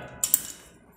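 A bolt being loosened on a motor control box, two quick sharp metallic clicks close up in an otherwise quiet room.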